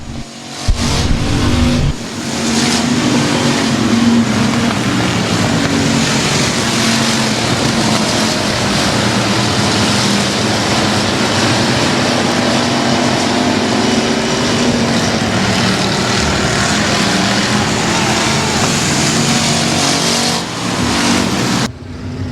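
Race cars on the back straightaway at Timberline Speedway roar without a break, a loud, dense engine drone that holds steady for the whole stretch.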